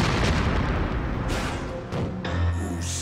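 A cartoon bomb explosion in a Mega Man animated episode, a loud booming blast with rumbling bursts that fill the clip, followed by a sharper second burst and lingering low rumble.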